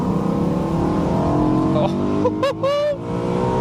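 A BMW M3 E93 convertible accelerates hard in second gear from about 25 mph, engine note rising steadily and loud, ending in quick upshift dips; a voice briefly exclaims over it.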